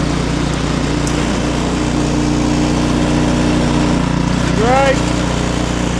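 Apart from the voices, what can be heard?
Ariens snowblower engine running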